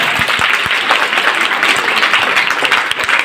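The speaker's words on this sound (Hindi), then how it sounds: "मैं चाहता हूँ आप सब अपने लिए बहुत ज़ोरदार ताली बजाएं" An audience bursts into loud, sustained applause, dense clapping from a large crowd filling a hall without pause.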